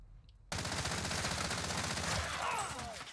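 Gunfire in the video game Warzone: after a brief quiet start, a dense, continuous rapid-fire volley sets in and stays loud and steady to the end, with no talking.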